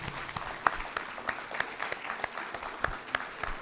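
A small audience claps for the Chancellor at a School of Education visit, sparse, uneven claps with distinct individual hits, moderately close and fairly quiet.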